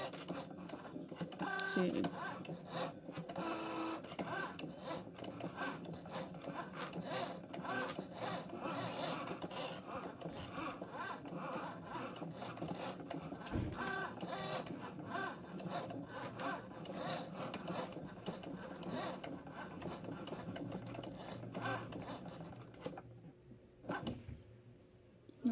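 A Cricut Joy cutting machine drawing with a pen, with tape added, whirs and rattles steadily with a fast scratchy texture for most of the stretch, then stops near the end; a brief voice is heard.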